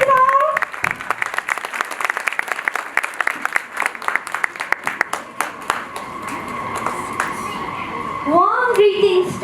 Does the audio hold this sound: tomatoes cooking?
no